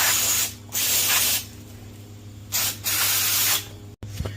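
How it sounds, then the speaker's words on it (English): Aerosol throttle body cleaner hisses in bursts while servicing an Infiniti FX37: a long spray, a short pause, another, then two more bursts, close and fairly loud with no talking. "Just grabbing some throttle body cleaner, spraying it."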